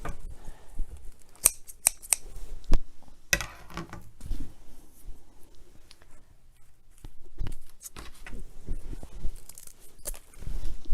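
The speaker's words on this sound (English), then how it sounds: "I am going to go ahead and cut these over my wastebasket just to kind of clean it up." Scissors cut craft paper petals for a daisy wreath over a wastebasket. Sharp, close snips come in irregular clusters with quiet gaps between them, and no talking is heard.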